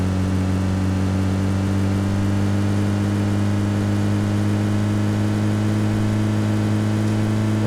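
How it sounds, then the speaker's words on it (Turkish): A loud, steady vehicle engine drone in the video game PUBG Mobile hums continuously without pauses, like a car motor idling or cruising. "Araba sesi aldım."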